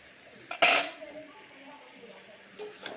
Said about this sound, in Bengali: এখন ঢাকনাটা উঠায় দেখব